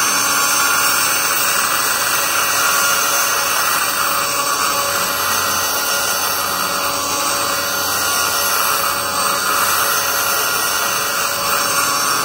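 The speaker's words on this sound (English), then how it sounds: "And this thing's awesome because I don't have air here, and it grinds just perfect." A handheld electric die grinder porting the back side of a cylinder head bowl just past the short turn, a steady continuous high-pitched whine with rough grinding texture, close and loud throughout with no speech.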